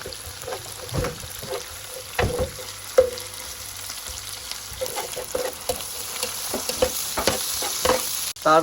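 Ginger-garlic paste sizzles and fries in a hot pan for fried rice, a steady close crackle broken by scraping stirs of a spatula, with no voices.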